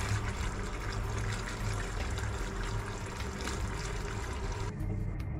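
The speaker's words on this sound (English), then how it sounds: "just let the water run through them" Tap water runs steadily over sorrel being washed for a Jamaican Christmas drink, a constant close pouring and splashing with no voices.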